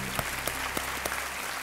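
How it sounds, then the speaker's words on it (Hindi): A studio audience on a televised quiz show applauds in a steady burst of clapping, with a few sharper beats standing out at a regular rhythm. "तालियों के साथ"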